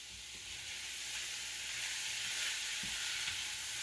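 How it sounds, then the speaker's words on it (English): Steady sizzling of cabbage frying in a pan, a constant bright hiss with faint occasional stirring clicks, no voices. "the cabbage has been frying for a good 5 minutes"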